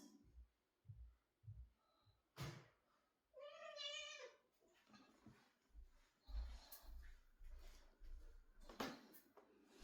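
A cat gives a single drawn-out meow amid soft thumps and rustling, with a faint exclamation in the background.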